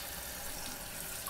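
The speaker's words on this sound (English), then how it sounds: "you gotta make sure that you wash all your meats, all your vegetables." Cold tap water running steadily into a kitchen sink while oxtails are being washed, a constant close hiss and splash with no breaks and no voices.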